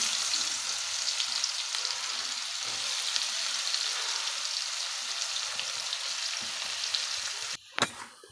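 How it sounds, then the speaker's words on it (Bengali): Onions fry in oil left over from frying potatoes, making a continuous close sizzle for several seconds that ends in a short clatter near the end. No voices are heard. "ওই আলু ভাজার তেলেই এই যে পেঁয়াজ ছেড়ে দিলাম।"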